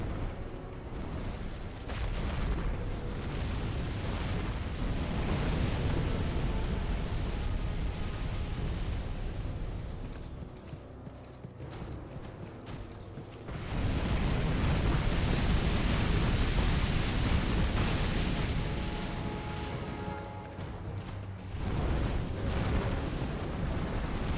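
Pyromancy fire spreading in Dark Souls 2 inside a crypt, a dense, roaring rumble that runs continuously for over twenty seconds, dipping briefly midway before surging back louder.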